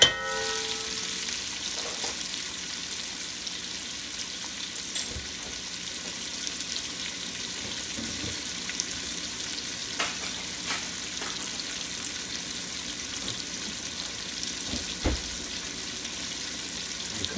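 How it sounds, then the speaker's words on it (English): Cabbage and celery fry quietly in a pan, a soft continuous sizzle with occasional light clinks and stirring scrapes throughout. "I am cooking the cabbage with celery"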